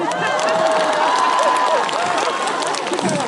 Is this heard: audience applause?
yes